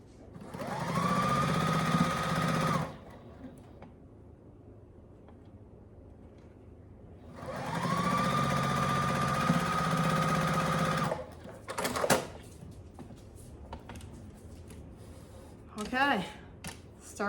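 A sewing machine stitches pieces of a Tilda quilt in two steady, whirring runs of a few seconds each, separated by quiet, followed by clicks and handling noises.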